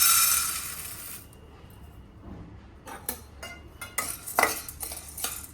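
Roasted chana dal is lightly dry-roasted in a pan, with a hiss that fades early, then scattered metallic scrapes and clinks of a spoon stirring the dry lentils, close and fairly quiet with no talk.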